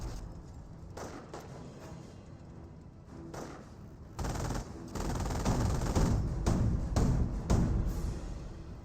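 Autocannon fire from a German 222 armored car in a Company of Heroes battle: dense, rapid bursts of shots that grow louder and heavier in the second half, with other battlefield gunfire mixed in.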